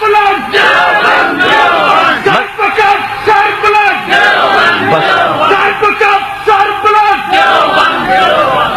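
A crowd at a religious gathering chants slogans in loud, rhythmic call-and-response bursts, repeated many times, with a leading voice and massed shouting close by.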